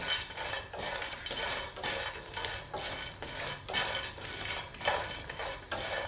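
Green and regular cardamom pods stir-roasted dry in a pan for homemade garam masala, with steady rhythmic scraping and rattling of a utensil across the metal, close and continuous with no voices.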